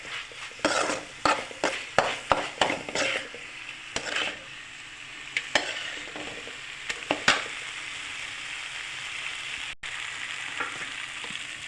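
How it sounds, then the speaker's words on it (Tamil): Onion, tomato, pepper powder, turmeric and salt fry in hot oil while a spoon stirs and scrapes the pan, making a run of sharp clinks over a constant close sizzle; the strokes thin out and the frying carries on alone. "உப்பு எல்லாம் இப்போ இதில் கலந்து போட்டு கிளறிக்கலாம்."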